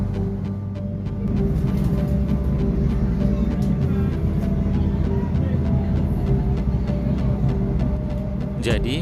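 Constant heavy rumbling of a moving train bound for Minangkabau International Airport in West Sumatra, heard from close by, with a low droning hum and a squeal near the end.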